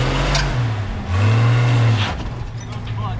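A lowered car on a trailer ramp, its engine revving hard as the clutch slips, a loud droning rise and fall close by, with people talking over it.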